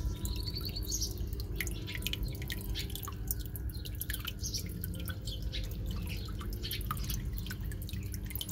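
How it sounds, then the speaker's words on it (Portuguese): Water dripping from a small water jet at a clean, aerated water bar, a steady close patter of fine drips running continuously over a low watery rush. "Aqui é o bar com jatozinho de água."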